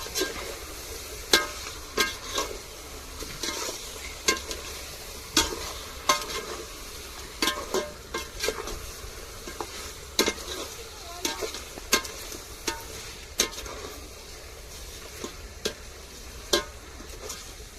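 Fish pieces for a glass-rock fish biryani fry in a pan, with a steady sizzle under regular, close scraping stirs that repeat every second or so.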